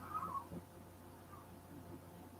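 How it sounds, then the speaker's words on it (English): Several pet cats meow faintly indoors, a brief higher cry near the start and a softer one later, over quiet background sound. "My kitties are all talking."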